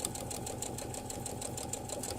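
A sewing machine runs steadily, automatically stitching a buttonhole on a fabric luggage tag at a moderate pace, its needle tapping in an even rapid rhythm with a constant motor hum, close up and without talk.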